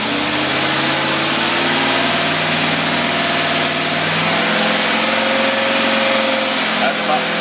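A car engine fitted with a Holley 4779 carburetor runs steadily in gear under a load like highway cruising, a continuous loud mid-pitched drone with slight shifts in pitch, close and unbroken for the whole stretch.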